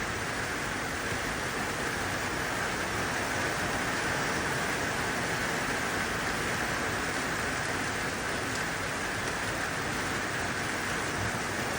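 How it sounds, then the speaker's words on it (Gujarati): Steady, dense unseasonal rainfall in Jamnagar hisses continuously throughout, a constant broadband wash with no breaks and no voices. "આપણે જામનગરમાં વરસાદ ચાલુ થઈ ગયો છે સાથે સાથે છે વીજળી"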